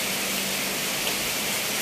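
Heavy rain from a typhoon pours steadily in a constant broadband hiss with no breaks, loud and close, and no voices are heard.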